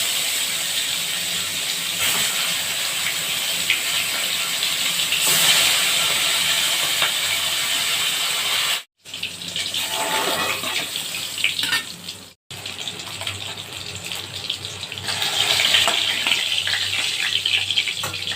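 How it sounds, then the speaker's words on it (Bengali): Desi koi fish slide into hot oil and fry with a steady, loud hissing sizzle that carries on for a long stretch, broken by two brief cuts, with crackling bursts rising and falling close by. "এবার আমি মাছ দিয়ে দিচ্ছি"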